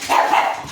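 A pet dog in a home kitchen at feeding time lets out a single short, loud bark or yelp close by, with no talking over it.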